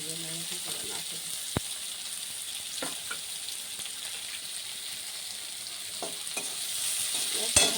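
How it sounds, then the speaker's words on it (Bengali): Chopped onion frying in a pan gives a continuous low hiss with a few sharp spoon clicks and scrapes against the metal, close and fairly quiet, with no voices over it. "পেঁয়াজটা ভাজা হতে থাক"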